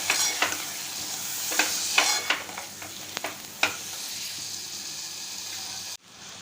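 Boiled moth beans are sautéed in spicy misal masala, a constant sizzle broken by a series of sharp spatula scrapes and taps against the pan.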